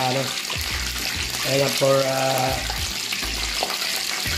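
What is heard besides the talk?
chicken frying in hot oil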